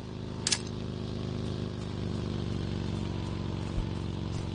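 A motorcycle in the video game PUBG drones steadily at mid distance, its engine hum staying fairly even throughout, with a brief sharp click near the start.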